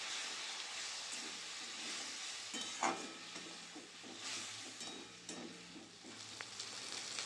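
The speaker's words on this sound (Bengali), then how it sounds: "ভালো করে মশলাটা কষিয়ে নেব। অল্প জল দিয়ে কষিয়ে নেব।" Spice paste with tomato and a little sugar frying in a pan with a splash of water, a steady soft sizzle broken by irregular stirring scrapes and clicks, moderately quiet, with no talking.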